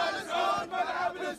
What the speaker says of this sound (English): It's just endless crowds of people.